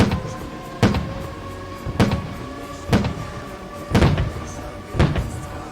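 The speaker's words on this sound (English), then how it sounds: "So we're watching the fireworks." Fireworks in the No Limits 2 fairground ride simulator burst as five sharp, booming pops spaced about a second apart over a steady hum and faint background music, with no talking.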